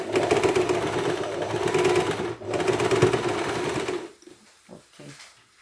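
An electric sewing machine stitches cloth in a fast, even buzzing run, pausing briefly midway, then stops, leaving quiet handling noises.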